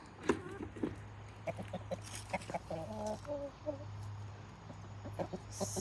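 Chickens cluck and a rooster calls in short bursts over a steady low hum, fairly close, with scattered bird sounds around them.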